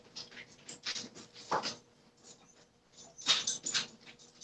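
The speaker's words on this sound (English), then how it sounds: "I guess the puppy had to go potty." A puppy whimpers near a microphone, giving a string of faint, high, thin whines and soft yips in irregular bursts over a quiet room background.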